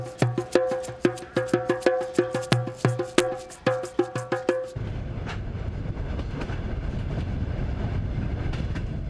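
A Trans-Siberian train running on rails, sharp rhythmic clacks of wheels over rail joints with ringing metallic tones, then giving way to a steady low rumble of the moving carriage.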